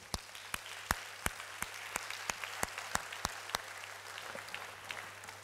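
A church congregation at a Sunday service claps along in a steady, even rhythm of sharp individual claps, roughly three per second, fairly faint and fading slightly toward the end, with no talking.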